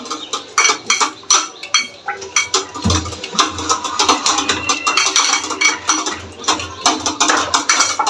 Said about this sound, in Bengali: এখন আর একটু মিশিয়ে নিচ্ছে তেলটার সাথে